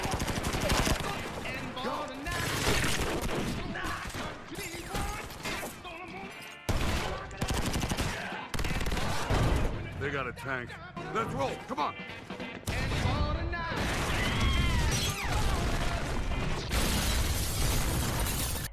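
Gunfire crackles through a battle scene in The Expendables 2, dense bursts of automatic shots, crashes and explosions under continuous narration by a voice talking over the action.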